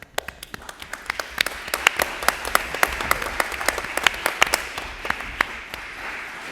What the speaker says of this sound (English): other than maybe a round of applause?